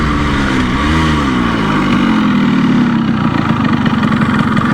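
A 1984 Yamaha RS 125 two-stroke motorcycle runs loud and close, its buzzy engine note dipping and rising in pitch before settling into a steady high drone.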